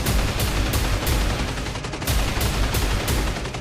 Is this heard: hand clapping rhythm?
no